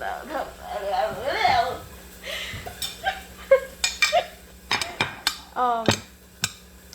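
Scraping leftover soft rice from the bottom of a pan, with clinks and scrapes of a utensil against the pan building toward a run of sharp, close knocks near the end, under faint background talk.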